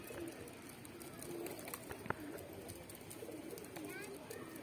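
Soft cooing of racing pigeons being flown from a rooftop, in an outdoor setting, with voices talking nearby and steady background noise throughout.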